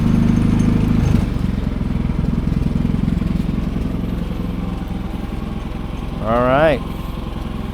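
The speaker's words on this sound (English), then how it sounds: "No idle surging, it's not spittering or sputtering." A Harbor Freight engine idles steadily in 19-degree winter storm weather, a close, even, loud putter with no surging, briefly interrupted by a short warbling sound near the end, and a voice speaks briefly.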